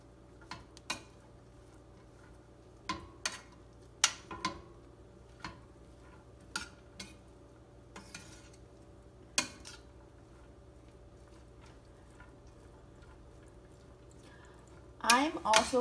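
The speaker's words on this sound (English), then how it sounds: "So I'm just breaking up the clumps of rice" Utensil scraping and tapping in a pan while clumps of cooked rice are stirred and broken up. Soft, scattered clicks and knocks come at an irregular pace, followed by a louder burst of clatter at the end.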